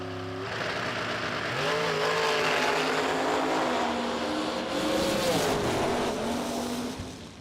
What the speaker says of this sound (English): And here he is, first pair out of dragster round number 1.